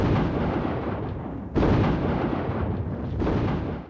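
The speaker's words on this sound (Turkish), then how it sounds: "Toplar daha önce hiç görülmemiş bir şekilde atış yapıyorlardı." World War I artillery cannons firing, a heavy continuous roar of booming blasts with two sharper onsets, loud and dense with no speech.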